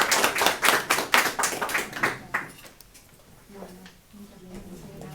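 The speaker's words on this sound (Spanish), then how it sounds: "otro aplauso" Clapping from a small audience at a Spanish-language talk on genealogical research in Italy, a burst of sparse handclaps lasting a couple of seconds before fading into quiet murmuring and a brief voice.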